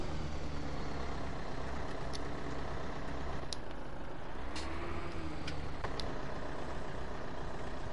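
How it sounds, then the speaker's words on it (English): A tractor engine idling in Farming Simulator 17, a steady low rumbling drone that holds at a constant level, with a few faint clicks over it and no talking. "Oh, I have a new tractor."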